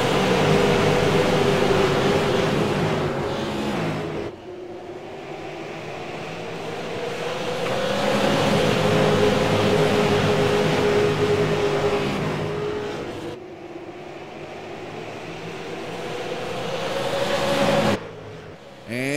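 Stock car engines in a racing sim game drone loudly and steadily at Irwindale Speedway, rising and falling as the cars accelerate off the corner, with brief drops in the roar before it builds again.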